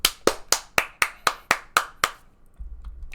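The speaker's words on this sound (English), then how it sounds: "round of applause for Miss Lotl and Persephone!" Hands clap to welcome guests joining a VTuber chat stream: eight sharp, evenly spaced claps in a steady rhythm, close and fairly loud, followed by a faint low hum.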